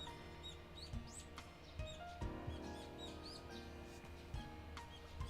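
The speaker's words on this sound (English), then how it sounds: "It's a waste to listen to such a valuable bird song when you're not quite awake." Morning birdsong from the Higurashi video game: repeated high chirps and short warbling calls over a steady low hum of background music, moderately faint throughout.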